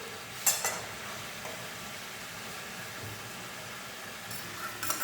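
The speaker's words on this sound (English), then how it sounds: "Now I have to keep on stirring it till it becomes very dry." Tomato pickle with jaggery, chili powder and tamarind stirred in a pan, a soft steady scraping and sizzle with a couple of sharper clinks near the start and end.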